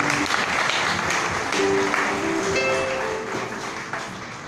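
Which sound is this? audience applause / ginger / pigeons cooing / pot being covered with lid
audience applause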